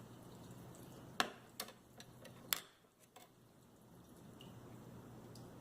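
Strained rendered leaf lard dripping through a strainer: a few sharp, close drips and ticks, some louder, spaced irregularly over a faint steady background hiss.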